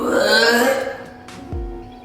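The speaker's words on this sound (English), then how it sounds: "Why are you burping that loud and why are you forcing it?" A loud, deliberately forced burp, long and gurgling at close range, that trails into a low throaty rumble at the end.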